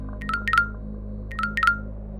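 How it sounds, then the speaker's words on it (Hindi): A mobile phone rings at night with an electronic ringtone, two identical chirpy bursts about a second apart over a low steady hum. "तभी अचानक राजू का फोन बज उठा"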